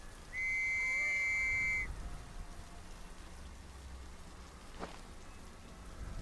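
A single shrill whistle blast, steady and loud for about a second and a half, rises over constant rain ambience in a World War 1 trench horror survival game, followed by a faint brief swoosh.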